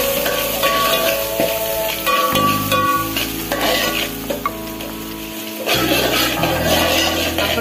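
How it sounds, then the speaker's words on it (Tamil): Green chillies, crushed garlic and tamarind sauté in a hot pan for tomato thokku, giving a steady close sizzle with a few stirring scrapes and clinks, and no voices. "அப்புறம் எடுத்து வச்ச பச்சை மிளகாய் போட்டு நல்லா வதக்கணும்"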